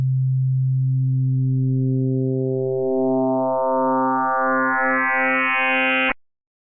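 Synthesizer oscillator with its phase modulation input opened up, producing a steady low tone whose bright, rising overtones sweep upward over about six seconds before cutting off abruptly; loud and alone.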